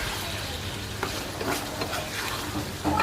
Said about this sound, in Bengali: এটা নেড়ে চেড়ে দিলাম ভালো করে কষাবো